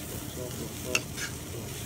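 Stir-frying in a wok in a home kitchen: a steady low scraping and frying bed runs throughout, with one sharp metallic clack near the middle and a softer hiss swell just after.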